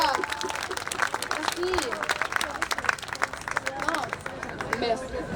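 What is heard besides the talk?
audience applause for performers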